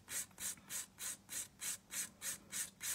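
Gel nail being filed with a 100-180 grit file in even back-and-forth strokes, about nine soft rasping passes at a steady rhythm, close and quiet with no talk.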